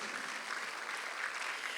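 A church congregation claps together during a Sunday worship service, a steady dense wash of hands beating at moderate, fairly soft level, with no voices standing out over it.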